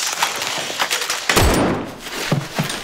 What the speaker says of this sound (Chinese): 枪声一响，所有人都全部惊动了。